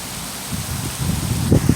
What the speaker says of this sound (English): But here we go. The rain.